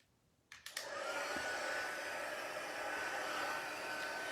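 Hot air tool switching on with a couple of clicks, then blowing a steady, loud whooshing roar that holds unbroken while it heats up, no talking.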